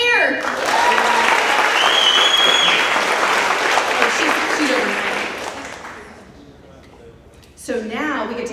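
A crowd at a monthly company celebration applauds, with loud, dense clapping for about six seconds that then fades away. A voice speaks briefly at the end.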